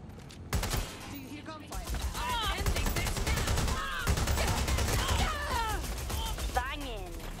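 Rapid gunfire shooting up a place in the Watch Dogs Legion video game, sustained bursts of loud shots with mechanical clatter running on for several seconds, with voices around the firing.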